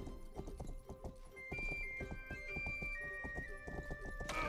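A horse gallops in a fantasy video game, a steady run of close hoofbeats over ambient game music tones, with a sharp whoosh at the end.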